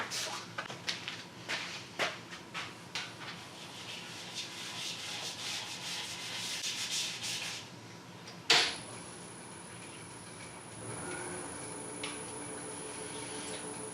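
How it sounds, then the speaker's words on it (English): Abrasive paste is rubbed against spinning sycamore crotch wood on a lathe at slow speed, making soft, rhythmic scratchy rubbing strokes that grow into continuous sanding, followed by a sharp knock and a quieter steady hum with a faint high tone. "Now I'm going to use some Axe abrasive paste here to get a smoother finish"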